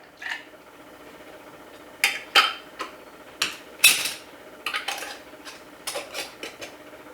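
A metal lid and screw ring go onto a jar of rhubarb pineapple jam sweetened with honey, making a series of sharp, close metallic clinks and taps, some spaced out and others in quick clusters, against a quiet background.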